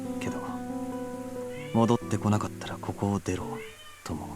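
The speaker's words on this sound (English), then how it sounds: "I don't know if you can hear my cat meowing in the background" A pet cat meows insistently in the background, several short, wavering cries close together, partly buried under a Japanese voice speaking dialogue over a steady musical backdrop.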